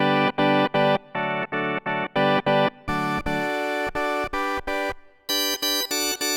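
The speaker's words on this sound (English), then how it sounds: "I've got a distortion. That sounds pretty cool" A Yamaha stage keyboard plays a series of punchy chords and sustained notes through a gritty distortion effect, loud and buzzing with some held passages.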